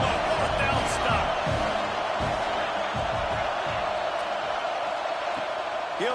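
Roaring stadium crowd noise from a football video game during a 4th down stop attempt, a loud continuous wash of cheering and hum that holds steady throughout.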